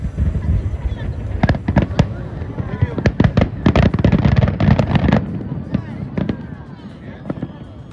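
Fireworks bursting at the International Pohang Firework Festival in Korea, a run of sharp cracks and booming pops in quick irregular succession, fairly close, with crowd voices and talk underneath that thin out toward the end.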